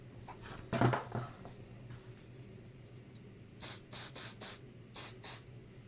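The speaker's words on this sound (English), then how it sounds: "then we'll spray on some accelerator." Glue accelerator sprayed from an aerosol can onto a joint on a green 3D printed RC plane during assembly, a series of about five short hissing bursts in a quick rhythm, preceded by a faint knock, close and fairly quiet.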